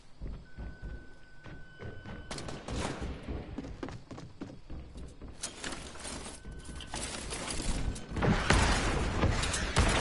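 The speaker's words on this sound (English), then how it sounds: "Is he shooting at you, or is that you?" Gunfire in a first-person shooter game, with bursts of sharp cracks and thumps, some distant and some close, building to a loud dense volley near the end.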